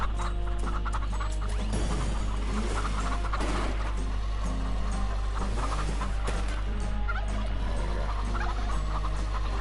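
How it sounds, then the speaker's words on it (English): Turkeys gobbling in the farming video game Farm Together on PS4, several fowl calls over a constant game soundtrack hum, moderately loud with no speech. "you can even hear the turkeys gobbling"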